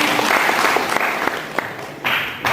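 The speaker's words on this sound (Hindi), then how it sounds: "मामा जी के लिए तालियां।" Crowd applause at a live Hindi-language seminar or event, a dense steady clapping from a large audience that carries on for the full stretch, with a brief dip and then a fresh swell near the end.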